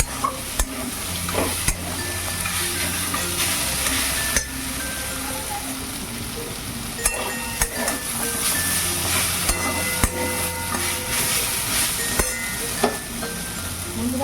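Fried lentil dumplings are stirred into greens, potato and eggplant in a hot pan, with steady sizzling and repeated scraping strokes of a spatula, close and moderately loud.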